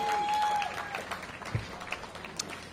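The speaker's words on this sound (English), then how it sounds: "That deserves some applause." Gathering at a construction groundbreaking outdoors giving brief scattered applause that thins out over a couple of seconds, a faint whistle-like tone at the start and light crowd murmur behind.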